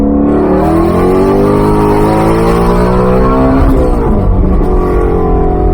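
Shelby GT350 on E85 under hard acceleration, its naturally aspirated engine revving loud and close with rising, climbing harmonics and a brief change in pitch midway.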